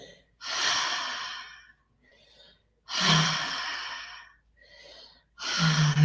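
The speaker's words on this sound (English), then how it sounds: "Power up your breath with the inhale. Relax your exhales." Slow, deep breathing close to the microphone: three long, airy breaths with soft pauses between them, each swelling and fading gently.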